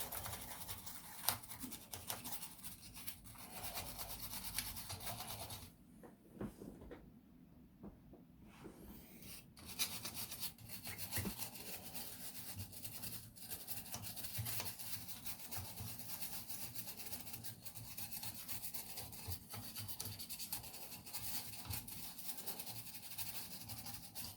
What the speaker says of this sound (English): Get a bit of a toothbrush in there so you don't get into all the little pins.